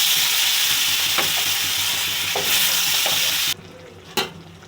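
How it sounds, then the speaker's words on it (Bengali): Spiced potatoes and pointed gourd fry in a pan for a fish curry, sizzling loudly and steadily with occasional stirring scrapes; the sizzle drops away near the end, followed by a single clank. "মশলা কষিয়ে আলু পটল দিয়ে দিয়েছি,"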